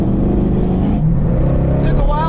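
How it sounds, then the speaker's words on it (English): Two cars, a 1999 Chevy Corvette and a 1998 Camaro Z28, launch in a drag race, their engines roaring loud and continuous from close by, with voices talking over the noise. "Took a while for the Corvette to kick down, but same with the Camaro."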